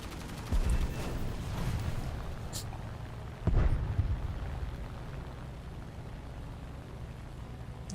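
Anti-air gunfire in War Thunder, two heavy bursts of firing standing out over a continuous low rumble and crackle, with sparser distant pops in between.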